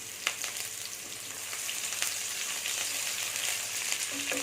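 Finely chopped onion frying in a pan for a chicken liver fry, giving a steady bright hiss that swells slightly, with a few faint clicks and no speech, close and moderately quiet.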